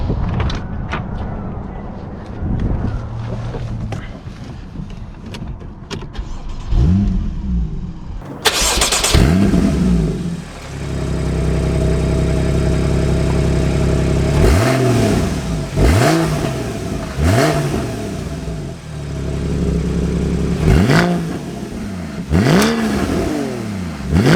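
Porsche 981 Boxster S engine starting, then driving with repeated revs rising and falling through the gears, loud and close, with no talk.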